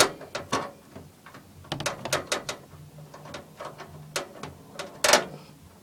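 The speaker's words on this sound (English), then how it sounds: "just tighten the screw very tight, so the graphics card won't move" Ratcheting clicks and metallic ticks from a screw being tightened to hold a graphics card in a PC case, close up and fairly quiet, in short irregular bursts with pauses, no talking.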